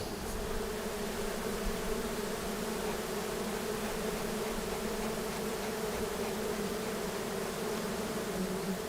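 Honeybees from a hive being taken apart during a bee rescue, swarming in a dense, steady buzzing drone that fills the air without a break.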